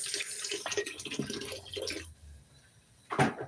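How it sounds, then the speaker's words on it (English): Water splashes and trickles into a container for about two seconds, then a short quiet gap before a brief louder slosh near the end. "So I'll add a little more water, all right?"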